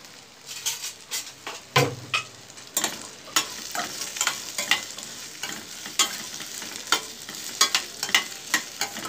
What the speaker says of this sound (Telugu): ఈ బెండకాయలను బాగా వేయించేసుకున్నాము